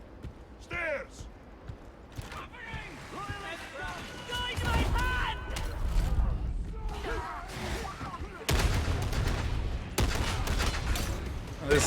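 Rapid bursts of gunfire from a gun in Warhammer 40,000: Darktide crackle through chaotic combat noise, growing denser toward the end, with a voice talking at the start.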